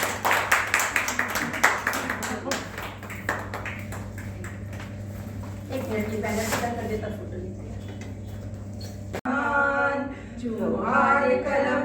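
An audience at a Hindi Diwas literary gathering of the Johar Kalamkar Manch in Jharkhand claps in brief, scattered bursts that fade within a few seconds, leaving a low hum and voices.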